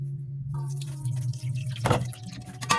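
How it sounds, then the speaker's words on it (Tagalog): Distilled water pours into a pot set up for steaming baby food, a steady splashing and trickling run with brighter bursts near the end, close and fairly clear. "Okay, maglagay na tayo ng tubig."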